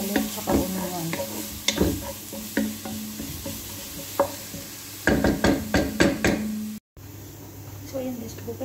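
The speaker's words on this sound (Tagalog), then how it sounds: "Translucent lang natin yung garlic tsaka onion." Garlic and onion sizzle in a pan with a steady frying hiss, broken by repeated clacks of a spatula stirring against the metal. Someone talks over the cooking throughout.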